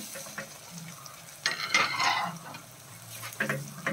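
Ginger garlic paste sizzles in a pan for a home-cooked mutton brain fry, with a soft steady frying hiss under close spoon scrapes and stirring clatter that swell briefly as it is mixed.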